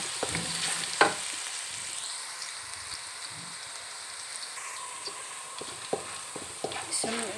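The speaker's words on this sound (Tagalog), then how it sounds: "Antayin natin maging kulay brown na yung bawang." Minced garlic frying in a pan while being cooked to a golden brown, giving a steady soft sizzle with occasional clicks and stirring taps of a utensil against the pan, close up and without talk.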